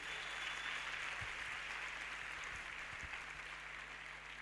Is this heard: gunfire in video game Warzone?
no